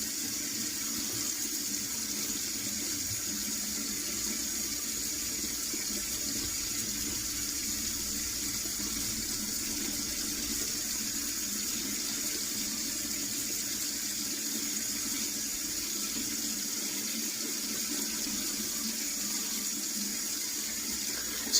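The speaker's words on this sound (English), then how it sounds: "So then I rinse my block off, and while that's percolating, I will go ahead and rinse out my mug and brush" Steady running tap water in a bathroom sink, rinsing off a shaving soap block, a mug and a shaving brush; a continuous, even splashing flow throughout with no talking.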